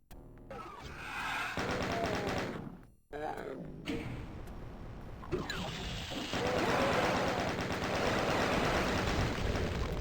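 A chaingunner enemy in DOOM fires its chaingun in long sustained rattling bursts with a short break partway through, loud and mechanical amid game sound effects.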